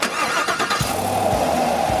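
A 2022 Chevy Camaro with a 6.2-liter V8 and dual-mode exhaust cranks briefly, then fires and settles into a deep, loud, steady idle rumble, heard up close without speech.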